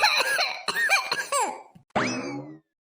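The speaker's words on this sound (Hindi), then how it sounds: "इसे तो बहुत खांसी हो रही है" A child coughs in a series of short, voiced, throaty bursts, then gives one longer, strained cough before the sound stops.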